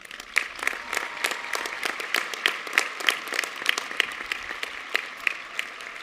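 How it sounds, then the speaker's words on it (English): A high school commencement audience applauds the graduating students, with a moderate crowd clapping in a big room and individual sharp claps standing out clearly over a steady bed of clapping. "You may now applaud."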